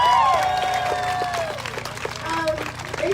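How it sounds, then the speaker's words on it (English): Crowd applause and cheering at a Black Lives Matter street protest, a mix of clapping and raised voices that starts loud and eases slightly, with a tonal whistle-like sound over the top. "give yourselves a round of applause."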